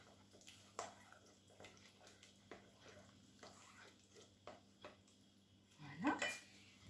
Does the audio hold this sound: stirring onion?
yes